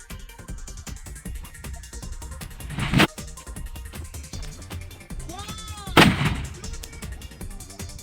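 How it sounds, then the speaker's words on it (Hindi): Two large sutli bomb firecrackers go off outdoors during Diwali, splitting a coconut, each a sharp loud bang about three seconds apart, with a cat meowing and low background noise between the blasts. "इस बड़े वाले सुतली बम ने तो इस नारियल को दो भाग कर दिया।"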